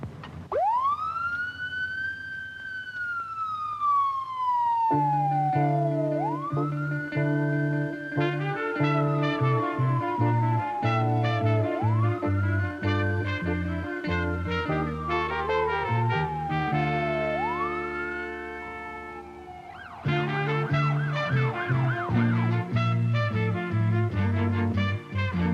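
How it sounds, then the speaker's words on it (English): A police car siren wails as the car speeds past, shown on old 16mm film: loud, slow rising and falling sweeps repeated several times, then a quicker warbling pattern near the end, with a steady engine rumble beneath and no talking. "A police car speeding past with its lights flashing and its siren wailing"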